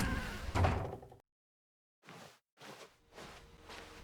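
A door in The Stanley Parable video game opens with a heavy sliding thud, then after a brief silence come several softer swooshing, shuffling movements, close and clear with no talking.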